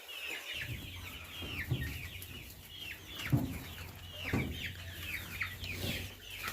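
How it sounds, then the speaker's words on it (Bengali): Large hens on a poultry farm cluck and chatter, with overlapping calls from several birds and occasional louder squawks, all fairly faint and distant over a low, constant background hum. "ওই যে বড় বড় মুরগি"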